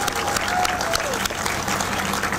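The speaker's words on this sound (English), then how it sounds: "let's give these guys a round of applause." Dense crowd applause for an Escondido firefighter honor team at a 9/11 stair climb event, a loud continuous wash of clapping outdoors.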